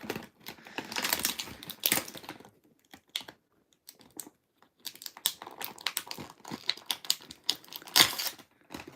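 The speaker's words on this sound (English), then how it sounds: "I'm just going to cut all these ties" Plastic ties being snipped and pulled away from a Jurassic Park toy dinosaur's box packaging, a run of close, crisp clicks, cuts and crinkles in irregular bursts with short pauses.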